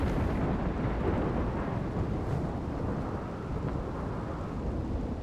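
Steady, dense rain with low rumbling thunder rolling underneath in the video game RimWorld, a continuous loud wash of noise with no speech.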